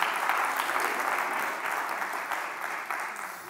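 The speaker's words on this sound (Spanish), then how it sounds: "Por favor, ahora sí, el aplauso." Steady applause from a crowd fills the room, a dense even patter of clapping that continues throughout without letting up.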